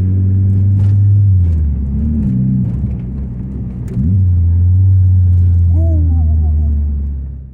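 A modified turbocharged MK2 VW GTI is driven hard. A loud, close, deep engine drone swells and dips in pitch as it pulls, with short rising whines mid-run, sustained over several seconds.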